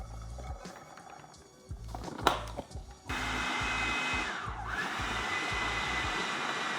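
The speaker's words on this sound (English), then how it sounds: "I want to scrape the sides down into the food processor. I'm going to add the rest of our channa." A food processor whirs steadily as it purees chickpeas (channa) for falafel, with a loud motor drone that starts partway through after some scraping and clatter.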